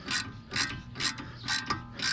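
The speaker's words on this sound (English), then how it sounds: "Now I just need to screw the top one in." A hand ratchet tightens the upper brake caliper bolt on a VW Polo 9N 1.2 during a front pad change, giving five evenly spaced bursts of crisp clicking, close and fairly quiet.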